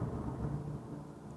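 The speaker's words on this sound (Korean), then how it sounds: "엄청난 번개가 치고 엄청난 천둥이 쳤습니다" Thunder rumbling during a thunderstorm, a low steady roll heard from a distance that fades slightly toward the end, moderately loud with no talk.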